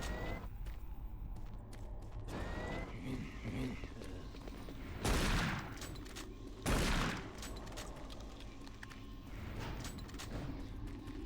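Gunfire in the video game Doom 3, a few sharp shots over a quiet, murky game ambience, with two strong blasts standing out about a second and a half apart.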